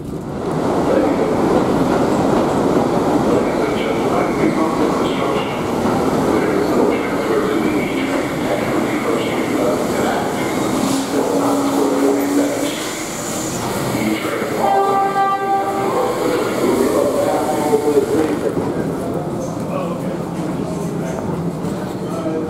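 An M7 commuter train runs out of Penn Station, its steady rumble and rail clatter loud and close from onboard, with a brief rising whine partway through.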